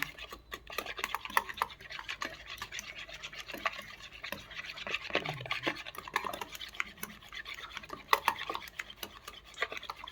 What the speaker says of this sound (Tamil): இதையும் வந்து ஒரு 1 மினிட் நல்லா விஸ்க் வச்சு மிக்ஸ் பண்ணி விட்டுக்கோங்க